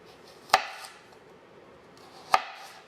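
Two sharp knife chops on a cutting board while cutting celery and carrots, close and distinct, about two seconds apart with a quiet room between.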